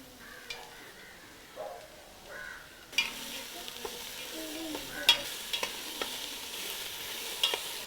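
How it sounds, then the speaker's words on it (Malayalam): Onion, beans and carrots are stir-fried for vegetable fried rice: a soft sizzle with stirring scrapes swells after a few seconds into a fuller, steady frying hiss with sharp utensil clinks. "സവാള വഴന്നു കഴിഞ്ഞാൽ ഇതിലേക്ക് ബീൻസും ക്യാരറ്റും ചേർക്കാം."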